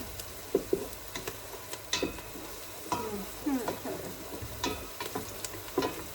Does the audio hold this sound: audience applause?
no